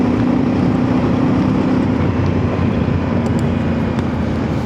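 Voge DS800X Rally motorcycle engine under throttle during break-in riding, a loud steady droning roar with a strong low hum and constant rushing noise throughout, no speech.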